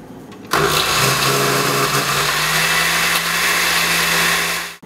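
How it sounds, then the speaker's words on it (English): Blender whirring through sofrito ingredients of garlic, peppers, onions and cilantro, switching on abruptly with a loud steady motor roar that runs several seconds before cutting off, no talk. "I blended a good amount of all the ingredients in here"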